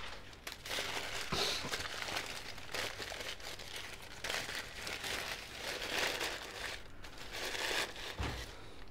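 Paper wrapping crinkling and rustling as a Helios 40-2 85mm f1.5 Russian lens is unwrapped, close and continuous crackling handling noise with a few sharper crumples.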